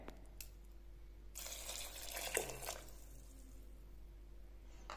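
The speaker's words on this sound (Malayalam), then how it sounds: "2 കപ്പ് വെള്ളം ഞാൻ ഒഴിച്ചു കൊടുക്കുന്നുണ്ട്." Two cups of water poured into a cooking pot for a dal curry with ash gourd, a short splashing gush in the middle of an otherwise quiet kitchen, close and moderately loud.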